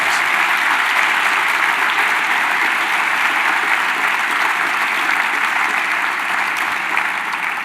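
Dense, sustained applause from a large audience at a presidential foundation scholars program gathering, a steady wash of many hands clapping at full volume for the whole stretch, with no talk over it.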